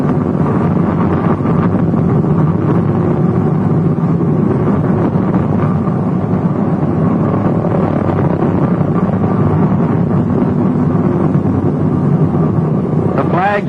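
A B-24 bomber taxiing to its berth at Willow Run, its engines a loud, steady low roar mixed with heavy wind buffeting throughout.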